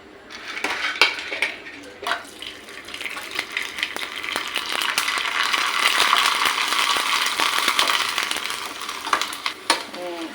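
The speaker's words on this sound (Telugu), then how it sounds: "వడియాలు ఇంట్లో ప్రిపేర్ చేసినవి అనమాట ఇవి ఇవి ఫ్రై చేసుకుందామండి" Homemade vadiyalu, sun-dried lentil fritters, frying in hot oil with a continuous bubbling sizzle, while metal utensils clink and scrape against the pan at intervals, close and fairly loud throughout.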